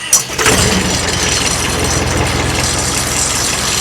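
A 2004 Morbark Model 12 Blizzard 12-inch wood chipper with an 86 HP CAT diesel engine cranks briefly, catches and settles into a loud, steady, close diesel rumble.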